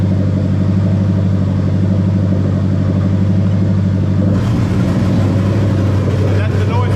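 A Lexus LS400 1UZ-FE V8 runs steadily nearby during a VVT-i solenoid test; partway through, the engine note shifts in tone as the solenoid is activated, loud and continuous with someone talking over it.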